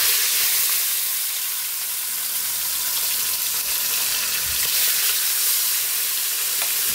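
A second batch of tilapia fish fries in hot oil, giving a steady, bright sizzle and crackle that stays loud and close throughout, with no voices.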